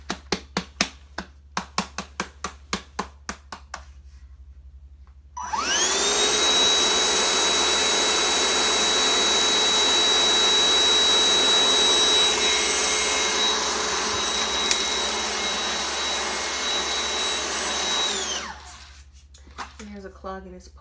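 A vacuum cleaner with a clogged pole runs loud and steady for about thirteen seconds with a harsh, rushing whine, preceded by a series of quick taps and followed by more tapping after it shuts off.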